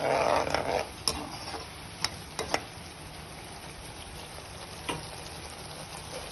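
Steady low frying hiss of spice masala in a pan, with a few sharp clicks and taps of a utensil scattered throughout; no voices.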